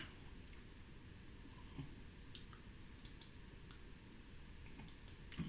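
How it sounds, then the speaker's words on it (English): Someone types on a computer keyboard. It comes through as faint, sparse key clicks against a quiet background hiss. "My typing."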